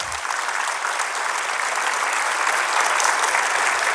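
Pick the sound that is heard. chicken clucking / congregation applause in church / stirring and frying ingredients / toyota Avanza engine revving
congregation applause in church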